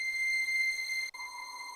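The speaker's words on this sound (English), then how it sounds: "you get some really lovely effects, like the old sort of Mini Moog eerie wind type thing going on" A synth sound run through the Steinberg Cubase stock morph filter gives an eerie, vintage Mini Moog-style wind effect: steady high, whistling tones that hold, then briefly drop out and shift to a lower pitch.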